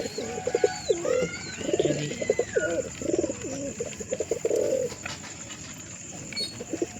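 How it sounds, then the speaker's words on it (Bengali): Pigeons kept at home, including a giribaz pigeon, cooing in soft repeated bursts nearby, several birds overlapping with faint chirps, against a quiet background. "এই হচ্ছে আমার সব পায়রা"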